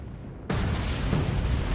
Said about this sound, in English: Secondary explosions.